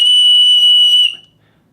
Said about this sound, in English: I'm gonna try this whistle, so it might be loud